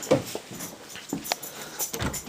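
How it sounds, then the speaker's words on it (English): A pet dog whimpers outside a bedroom door wanting to come in, a few short high whines and snuffles spaced through a quiet room, fairly close and alone. "My dog wants to come into my room."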